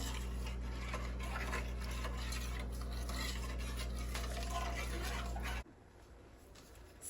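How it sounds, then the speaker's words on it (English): Dumpling gravy is stirred in a pot, a steady rasping swirl of spoon against the pot running for about five and a half seconds over a constant low hum, then stopping abruptly. "stir it real good, get it all lump free"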